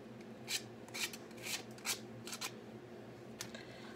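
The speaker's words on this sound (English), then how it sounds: "I'm gonna try sanding down this real quick. Some high grit stuff." Short rhythmic scratchy strokes of high-grit sandpaper rubbed over wood while building a turkey pot call, about half a dozen passes close by, then quieter.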